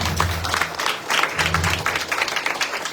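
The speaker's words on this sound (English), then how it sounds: "everybody clap hands and welcome him" Congregation clapping hands in welcome at a Sunday evening church retreat in Margao, a steady dense applause with some background voices and low music underneath.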